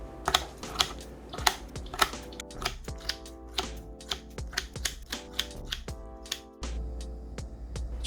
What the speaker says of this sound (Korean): 먼저 김치를 잘게 잘라주세요.